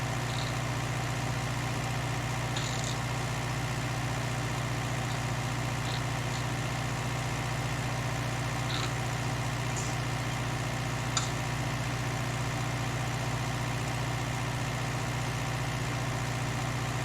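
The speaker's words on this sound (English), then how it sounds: "Tractor does have a lot of revs on this job." A Fordson Major or Ford 5000 tractor held at full revs to drive a hay baler, a steady low droning engine note that runs unbroken and even throughout, with faint light ticks now and then.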